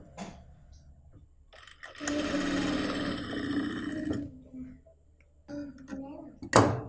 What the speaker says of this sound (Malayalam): രണ്ടിൻ്റെയും നല്ല വശങ്ങൾ തമ്മിൽ ഇതുപോലെ വെച്ചിട്ടൊന്ന് കാലിഞ്ചിൽ സ്റ്റിച്ച് ചെയ്ത് എടുക്കണം